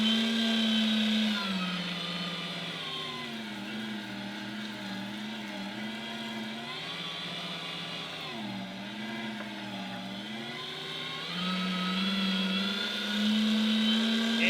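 A meat grinder chews through hard beef fat for tallow with a steady, loud motor whine whose pitch dips and rises as chunks load and clear, running continuously throughout.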